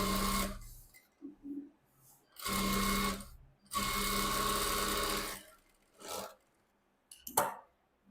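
An electric sewing machine stitches a neck back design on a garment in several close, loud bursts of rapid whirring with short pauses between runs.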